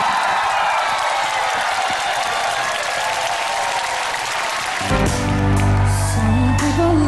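A studio audience on a Filipino TV talent show breaks into loud sustained applause and cheering, then upbeat theme music comes in over the clapping near the end.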